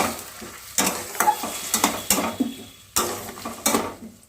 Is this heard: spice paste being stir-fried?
yes